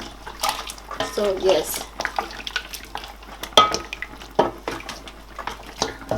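Water is poured into a pot of boiling beef, splashing and gurgling in uneven bursts along with clinks of the pot and stirring, while someone talks.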